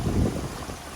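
Rushing creek water near a waterfall on the Appalachian Trail, a loud, close, steady broadband wash with a heavier low rumble at the start.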